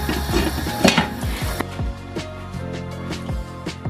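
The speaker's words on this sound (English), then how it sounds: "pop the lid on." A lid placed onto a cooking pot of simmering seafood curry, giving a metallic clatter and clink near the start, then quieter repeated taps and knocks close by in a kitchen.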